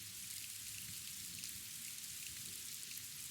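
Steady, dense rainfall with a constant hiss of drops hitting surfaces, even and unbroken throughout, with no voices.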